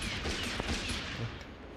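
Gunfire rattles through a cowboy-style shootout in the video game Honkai Star Rail as a character shoots at random, a dense, continuous burst of shots close and loud with no pause.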